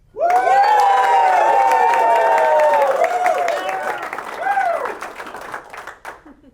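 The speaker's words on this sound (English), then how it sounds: "By round of applause and noise" A loud crowd at a public-speaking contest claps and cheers for several seconds, with shouts and whoops riding over dense clapping before it tapers off.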